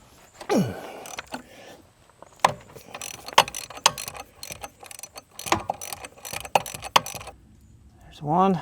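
Metal clanks, clicks and scraping knocks ring out in irregular bursts as a split pinch bolt is worked out of a worn Caterpillar excavator, close and fairly loud with short pauses between strikes.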